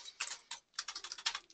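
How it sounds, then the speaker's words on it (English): Quick bursts of keystrokes on a computer keyboard as an author's name is typed into a library search, two short clusters of soft, close clicking with a brief pause between. "I'm going to type in James Patterson."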